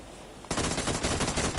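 Gunfire in the PUBG battle royale game. A quiet stretch suddenly gives way to rapid automatic bursts that keep hammering loud and dense to the end.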